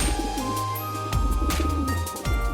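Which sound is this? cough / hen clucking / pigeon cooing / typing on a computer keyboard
pigeon cooing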